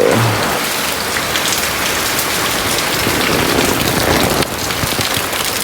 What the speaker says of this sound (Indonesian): karena ini hujan kita pakai payung ya